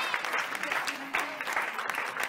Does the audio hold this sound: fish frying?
no